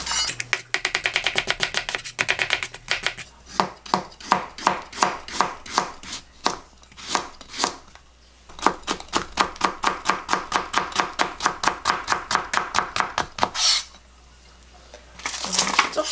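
Green onions chopped with a knife on a cutting board, fast, even knocks in long runs with a brief pause between bursts, close and crisp with no talk.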